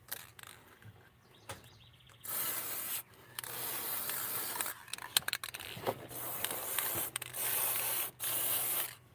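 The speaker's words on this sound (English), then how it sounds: "Spray the chain." Repeated hissing bursts from an aerosol lubricant spray can aimed at a soybean planter chain, several sprays of a second or so each, close up and separated by short pauses with light handling noises.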